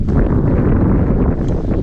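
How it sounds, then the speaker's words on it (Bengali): Strong wind at a lake batters the microphone in loud, continuous low buffeting gusts that fill the whole stretch, with no voices. "প্রচুর বাতাস চলছে চারপাশে"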